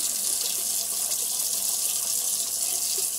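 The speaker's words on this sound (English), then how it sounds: "I'm going to put cold water in to cool it down" Cold water runs steadily from a tap into a container for a hummingbird feeder sugar mix, a continuous close hiss with no talking.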